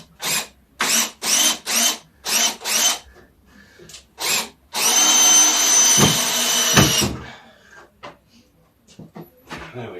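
A power drill drives screws into a thick stove bracket during kitchen and stove fitting in a shepherd's hut build. Several short, loud whirring bursts give way to one long sustained run, then quieter handling noises.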